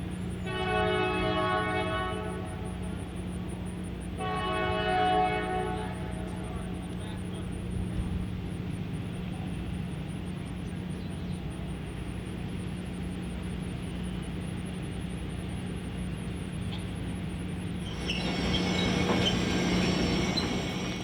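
Arkansas & Missouri Alco diesel locomotives haul an excursion train of streamlined and heavyweight passenger cars through the Ozarks, sounding two horn blasts over a steady engine drone and rolling rumble, with wheel squeal and brighter noise near the end.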